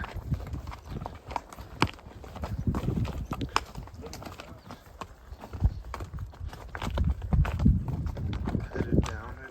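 Horses walk along a trail on an old road in Salt Horse Canyon, Arizona, their hooves clip-clopping in an irregular, uneven rhythm close by, with occasional louder thuds and light rustling.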